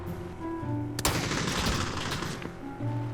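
Loud, dense burst of gunfire in the PUBG battle royale game, a sharp crack followed by about a second and a half of rapid overlapping shots aimed at the player, then fading into ambient game noise.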